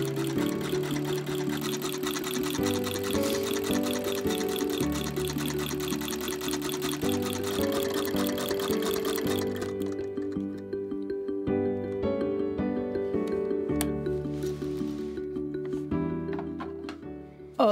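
A Victorian sewing machine fitted with a ruffler foot stitches steadily, a fast, even mechanical clatter that runs throughout at close range, with a rougher, uneven patch partway through and no talking.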